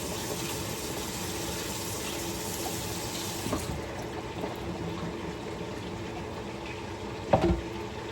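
Tap water runs in a steady, close stream as tilapia is rinsed at a kitchen sink, a continuous wash of sound broken by a brief clunk near the end, with no talking.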